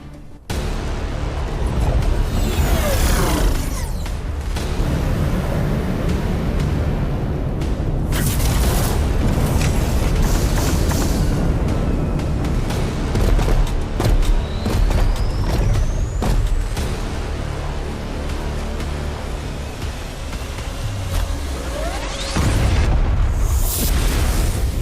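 Heavy explosions from bombs detonated during an air raid in the game RF Online Next, with loud booming blasts and rumbling debris that run continuously over about twenty-five seconds, broken by a few sharp bursts.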